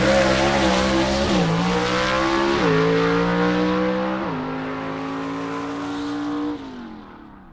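Gasser drag race car launching down the lane at a Southeast Gassers Association Spring Nationals qualifying run, a loud engine roar climbing through several sharp gear shifts before fading as the car pulls away.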